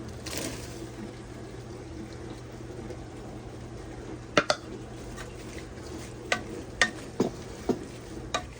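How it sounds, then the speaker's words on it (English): Peppers are stirred into boiling syrup in a pot, giving a steady bubbling sizzle with a few sharp clinks and scrapes of the spoon against the pan toward the end. "now we're going to add all of our peppers in."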